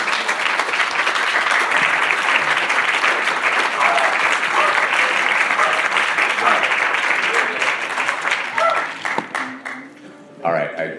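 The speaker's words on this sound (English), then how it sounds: "I hear applause from more than one species." Sustained applause from a debate audience fills the room, dense and loud for about nine seconds before tapering off, with a voice briefly audible near the end.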